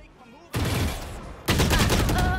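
Two loud bursts of rapid gunfire in the tactical shooter game Valorant, the first starting abruptly and rattling for about a second, the second following right after and continuing to the end, close and dense.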